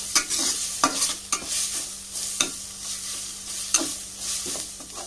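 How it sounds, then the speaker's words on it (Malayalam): Crushed ginger and garlic sauté in a hot pan for a Kerala-style chickpea dish, a steady sizzle broken by sharp, irregular scrapes and clinks of a spoon stirring against the metal. "അതും ചേർത്ത് നമുക്ക് നല്ലപോലെ ആ ഇഞ്ചിയുടെയും വെളുത്തുള്ളിയുടെ ഒക്കെ പച്ച സ്മെല്ല് മാറണ വരുന്ന നമുക്ക് വഴറ്റിയെടുക്കാം"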